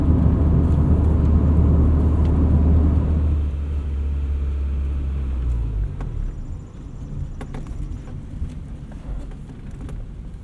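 A 1999 Honda Civic Si EM1 rolls along with a steady low engine and road rumble that eases after a few seconds, then settles into a quieter cruising drone, heard from inside the car.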